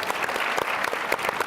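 Brief burst of audience clapping at a panel event, a quick run of individual claps layered into light, moderately distant applause.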